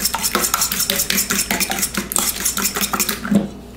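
Brownie batter being mixed in a bowl with a utensil, rapid rhythmic scraping and clinking strokes against the bowl's side, close and fairly loud, with no talking.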